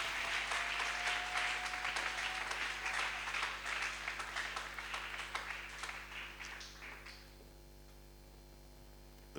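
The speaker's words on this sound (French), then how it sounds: "Acclamons-le encore." A church congregation applauds in praise of God with dense, sustained clapping that gradually thins and fades to quiet, leaving a steady electrical hum.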